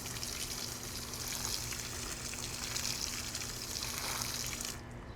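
Water sprays and splashes steadily onto garden plants and soil outdoors in July, a continuous hissing, trickling wash that holds even and close for several seconds before cutting off.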